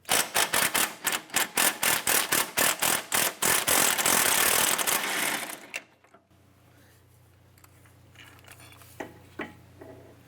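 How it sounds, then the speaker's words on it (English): A 17mm swivel socket on an extension driven by a rapid-fire tool spins out a front subframe bolt on a 2004-2008 Acura TL, giving loud rhythmic clattering bursts that stop abruptly, followed by quieter metallic clinks and a low hum. "Using our 17mm swivel socket and extension, I'll go ahead and remove this bolt here."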